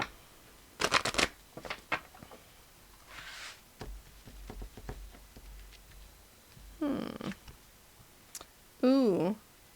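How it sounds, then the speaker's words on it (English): A deck of cards is shuffled in several quick riffling bursts, close and crisp, with soft clicks and handling noise between them and a brief vocal sound near the end. "I'll do one more shuffle."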